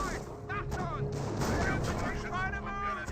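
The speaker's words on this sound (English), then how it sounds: "But we got a regular barrage here." Explosions and gunfire rumble and crack through a dense artillery barrage in the World War II strategy game Company of Heroes, loud and continuous, with a voice talking over the battle.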